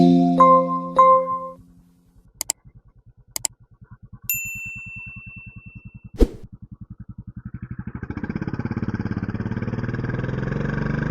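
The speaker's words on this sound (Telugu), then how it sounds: "ఇప్పుడైతే మనం ఈ బైక్ని అయితే టెస్ట్ డ్రైవ్ అయితే చేయబోతున్నాం" A restored Royal Enfield Classic 500 at night: a few bright metallic dings, then the single-cylinder engine idles in an even thumping pulse before revving up into a louder, rising drone nearby.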